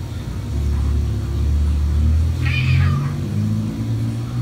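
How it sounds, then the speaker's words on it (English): A cat meows at a front door at night, a single drawn-out wail midway over a steady low engine-like rumble in the background. "I would definitely think something was up if my cat sounded like this at the same time every night"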